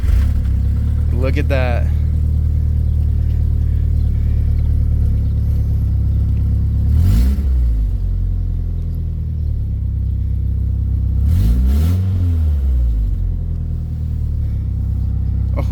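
A car engine starts for the first time after sitting, idling with a deep steady rumble and rising in three separate rev bursts, while people talk nearby.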